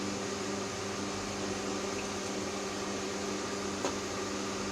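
A pot of water with chicken breasts in it, coming up to a boil on the stove, gives a steady low rumble and hiss that continues alone without change.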